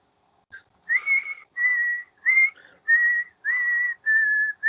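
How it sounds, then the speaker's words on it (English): A lone person whistles a slow, eerie tune in clear sustained notes with brief breaths between them, close and alone. "she's just whistling this haunting tune"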